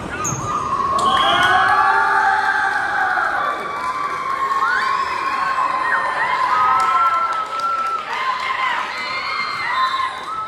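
Children cheer and shout together in a lively indoor crowd, high excited voices overlapping continuously and loudly for the whole stretch, with a few squeals rising above the din.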